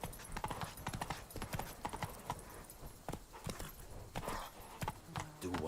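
Hooves of Geralt's horse Roach clip-clop at a steady walking rhythm in The Witcher 3, close and clear with no talk.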